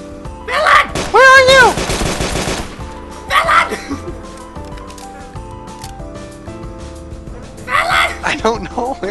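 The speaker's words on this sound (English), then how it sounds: "Go towards a gunshot!" Rapid bursts of gunfire in the game DayZ crackle against a busy, layered soundscape, with a voice talking over parts of it.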